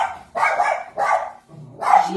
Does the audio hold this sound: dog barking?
yes